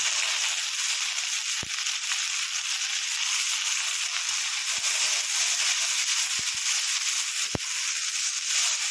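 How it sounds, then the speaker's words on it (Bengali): Tomato paste hits hot oil already tempered with ginger for a pabda fish curry, giving a loud, constant, close sizzle with a few sharp pops and crackles. "এবার দিয়ে দেবো এই যে টমেটোটা পেস্ট করে রেখেছিলাম, সেই টমেটোটা দিয়ে দেবো"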